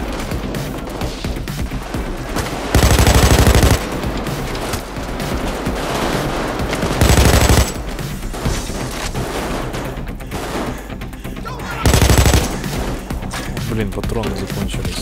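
Payday 2 gunfire arrives in three loud, dense bursts of rapid shots, each lasting about a second, spread across a stretch of quieter game ambience with people talking.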